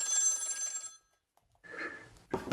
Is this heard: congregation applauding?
no